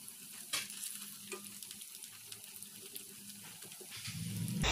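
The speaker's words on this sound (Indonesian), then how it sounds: "Siapkan minyak secukupnya dalam wajan untuk menggoreng, dan jika udah panas langsung aja dimasukkan cirengnya" Cireng, tapioca snacks, frying in hot oil in a wok give off a soft, steady crackling sizzle with scattered pops, fairly quiet, building to a louder rush at the very end.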